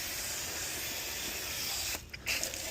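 Coil cleaner sprayed from a can onto an HVAC coil, a steady close aerosol hiss lasting about two seconds before a brief pause and a short final burst.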